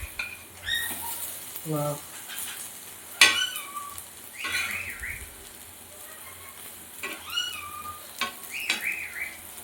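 Rekoch (rikvach) frying in a pan as the pieces are flipped and turned, with steady close sizzling broken by scraping and clattering from the utensil. A short exclamation from a voice cuts in once.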